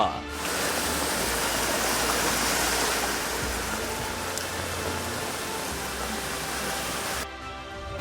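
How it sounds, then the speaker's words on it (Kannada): Floodwater rushes along city roads during heavy rain in Bengaluru, a dense, continuous roar of flowing water and downpour that stays loud and steady throughout. "ಯಾವ ರಸ್ತೆಗೆ ಕಾಲಿಟ್ರೂ ನೀರು ಪ್ರವಾಹದಂತೆ ಹರಿತಾ ಇತ್ತು"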